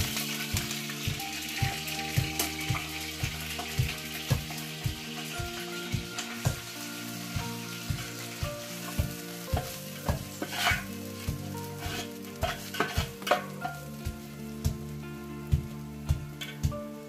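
Roasted coconut paste hits hot oil for tempering in a Konkan village kitchen, giving a steady crackling sizzle with stirring scrapes throughout, and no voices.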